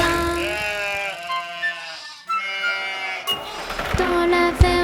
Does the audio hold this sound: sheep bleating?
yes